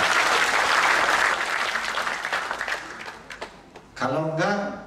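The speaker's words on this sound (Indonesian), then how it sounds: "Tepuk tangan itu." Audience applause at the closing ceremony of Bali Language Month in Bali, loud dense clapping that thins out, followed by a person speaking.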